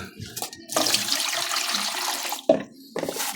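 Tap water gushes into a basin as frozen chicken is set to soak, a steady rushing pour broken by short pauses and clunks, then the flow resumes near and fairly loud.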